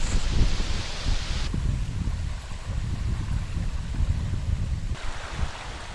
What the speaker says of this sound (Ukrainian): Оце вітер.